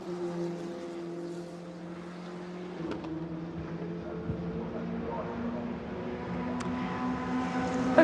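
W Series Formula race cars lapping the Silverstone circuit during practice, a steady layered engine drone at moderate distance whose pitch rises and falls as the cars pass through corners.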